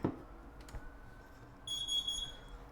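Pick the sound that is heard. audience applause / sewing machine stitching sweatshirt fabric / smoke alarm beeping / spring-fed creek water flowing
smoke alarm beeping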